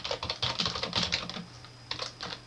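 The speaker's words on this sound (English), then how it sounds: "So let's just type that in there." Rapid, uneven clatter of keys on a computer keyboard while entering text into an Excel spreadsheet, close and clear, pausing briefly before a last short burst of typing.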